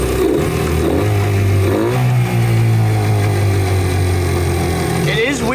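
A Yamaha outboard motor bought online starts and revs loudly up close, its low droning engine tone rising and falling through several throttle changes, with a voice talking over it.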